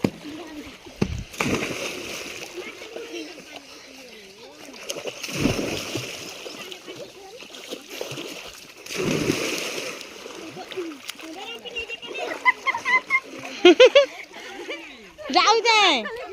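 People splash and slosh in Mahanadi river water on a hot day, with repeated bursts of splashing and churning water close by, while voices chatter and call out over it.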